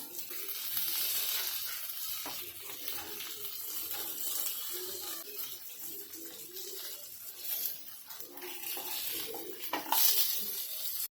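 Halwa (pomfret) fish frying in a little oil in a pan, a steady hissing sizzle with crackling texture that swells and eases over time, heard close without voices.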